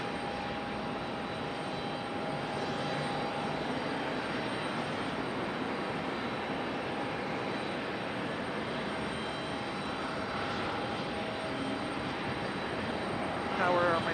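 A JetBlue Airbus A220 jet airliner at Raleigh-Durham International Airport gives off a steady, even engine roar that fills the whole stretch at moderate loudness and swells slightly at the very end.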